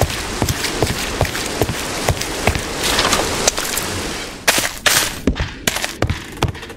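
Rain pours steadily in Minecraft running the RLCraft modpack with shaders, a constant hiss broken by frequent sharp cracking pops and taps close by, loud and busy.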